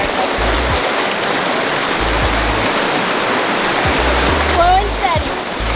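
Steady, loud rushing of river water fills the scene at a vehicle river crossing, a broad continuous wash with faint low thumps, and a voice briefly rises over it near the end.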